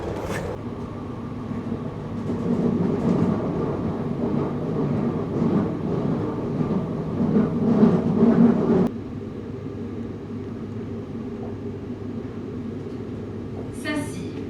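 A train passing a tram station in Île-de-France makes a loud, steady rumble for about nine seconds. It then cuts off abruptly to quieter station ambience, with a short hiss near the end.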